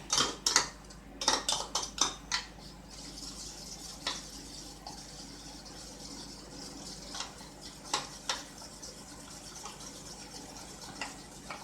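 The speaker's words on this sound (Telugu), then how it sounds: "ఇవన్నీ బాగా కలిసే వరకు కలుపుకుంటున్నాను" Eggs and bread-omelette ingredients whisked in a bowl: a brisk burst of clattering spoon-on-bowl strokes at first, then softer, sparser clinks and scrapes as the mixing slows, close and alone with no talk.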